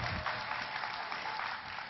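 Audience at a Kathak dance performance during a music and dance festival clapping together, a dense, even wash of hand claps heard from amid the crowd, with no distinct beat standing out.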